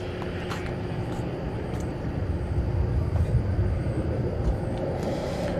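An American Airlines Boeing 737-800 taxis into position at DFW airport, a low distant jet rumble that swells slightly midway, with faint clicks and hiss over the steady drone.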